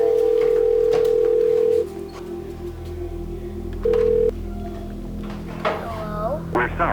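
A telephone dial tone hums steadily, cuts off, then briefly returns, with clicks and knocks of handling around it and a voice speaking toward the end.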